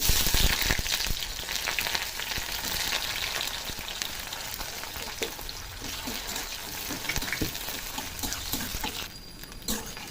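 Chopped onions, cinnamon, cloves and cardamom crackle and sizzle loudly in hot oil, making a dense continuous hiss close by that eases slightly near the end, with no speech.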